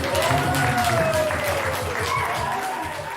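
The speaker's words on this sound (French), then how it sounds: "Put your hands together." Audience applause at a KEREN 2020 event, dense and steady clapping from a crowd throughout, with a faint voice or tone running underneath.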